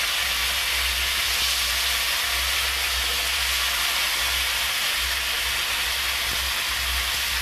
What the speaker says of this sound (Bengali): এটা হালকা হালকা ভাজা হয়ে গেছে